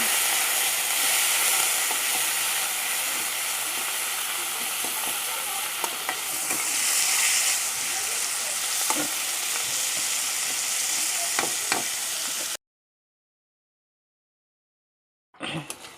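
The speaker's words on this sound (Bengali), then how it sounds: "কেটে রাখা কুচানো পেঁয়াজ আমি লাল করে ভেজে নেব" Chopped onion fries in a pan for potol chingri, a steady, close, hissing sizzle with occasional light pops and stirring clicks. It runs for about twelve seconds, then cuts to silence before a brief return. No voices are heard.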